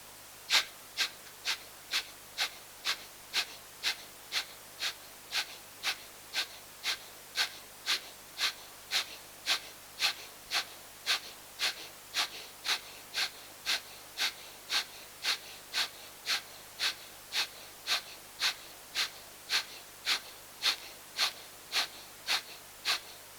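Slow, steady yogic breathing during meditation, each breath a soft airy rush repeating at an even rhythm roughly every half second, close and quiet with no speech.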